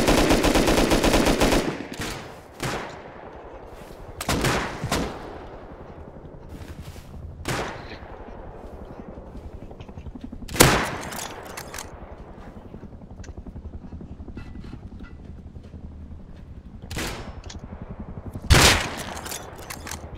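Gunfire in the survival game Rust: an opening stretch of rapid fire, then scattered single shots and short bursts of varying distance over a quiet, airy background.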